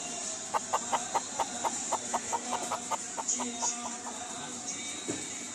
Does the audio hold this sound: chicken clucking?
yes